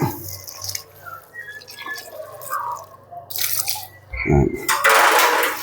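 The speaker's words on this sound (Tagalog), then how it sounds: "Okay, so lagyan lang natin ng tubig." Intermittent dripping and splashing of water poured into dry animal feed, with clattering handling noises and a louder pour near the end.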